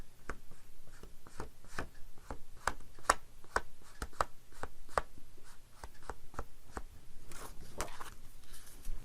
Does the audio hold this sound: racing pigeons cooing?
no